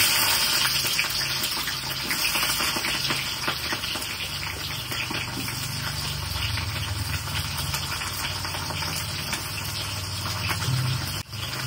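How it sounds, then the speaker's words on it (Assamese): Onions dropped into hot oil in a home kitchen, a steady loud sizzle and hiss running throughout with no talking. "তাৰপিছত পিঁয়াজখিনি দি দিওঁ তেলটো গৰম হৈ গ'ল"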